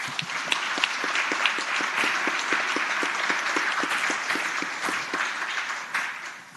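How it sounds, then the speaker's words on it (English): A room full of people applauding steadily in the Virginia Senate chamber, with some distinct claps standing out from the dense wash of clapping. "Let's please give them a round of applause."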